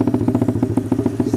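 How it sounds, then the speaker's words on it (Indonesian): A Symoto 50cc four-stroke motorbike engine catching on its electric starter and running, heard close as a steady rapid chugging throb with light mechanical clatter, no talk over it. "Nih, kunci kontak sekali langsung starter"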